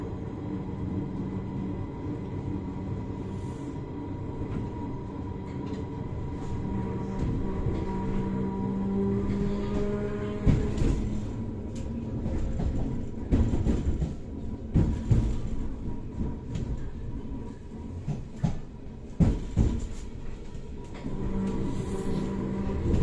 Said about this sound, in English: we're now arriving into Greenford Station, where this train will terminate